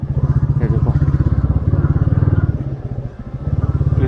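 Several motorcycles ride over a rough, rocky mountain trail on a trek route, engines droning loud and steady close by, with a brief dip near the end.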